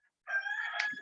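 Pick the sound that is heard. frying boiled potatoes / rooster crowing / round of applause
rooster crowing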